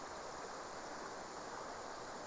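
Sope Creek water flowing steadily, a dense, continuous rushing close by with no breaks or voices.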